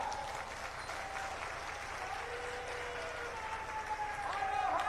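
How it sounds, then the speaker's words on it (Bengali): Loud sustained applause from a crowd at the opening of a fair honouring the chief minister, a dense continuous wash of clapping with voices mixed in. "জোরে করতালির দ্বারা"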